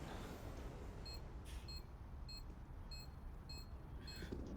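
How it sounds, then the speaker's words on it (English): A planted bomb beeps in a competitive league video game match, short high electronic beeps repeating at an even quick pace over a steady background hum, with no voices. "as we hear the bomb ticking down."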